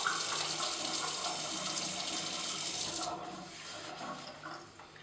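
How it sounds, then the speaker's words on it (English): Tap water running steadily into a sink as a plate is rinsed, a bright close splashing rush that thins out and quiets after a few seconds. "I rinse it again. Last step here in the sink."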